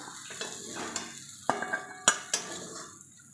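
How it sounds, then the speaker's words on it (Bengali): Fish fry in hot oil in a pan with a faint, steady sizzle, broken by several sharp clinks and scrapes as a utensil turns the pieces. "হয়ে গেছে ভাজা, এবার আমি নামিয়ে নেব"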